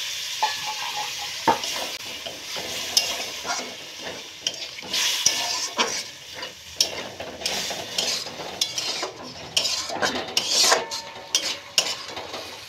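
Spice paste for a tilapia fish curry is stir-fried in a pan. A spatula scrapes and clinks in an irregular rhythm over a steady close sizzle, with no voices.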